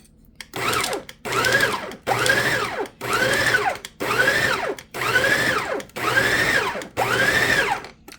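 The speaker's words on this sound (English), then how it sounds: "we're just going to pulse it, because we don't want to chop up those chocolate chips" Food processor pulsing chickpea cookie dough with chocolate chips: seven short, even bursts of motor whir, each about half a second long, separated by brief gaps. The sound is close and moderately loud, with no talking.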